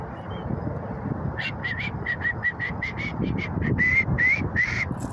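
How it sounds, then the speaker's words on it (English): Ducks on a lake give repeated quacking calls, a steady series of short harsh bird notes over low rumbling background noise, fairly close. "Look at all those ducks, man."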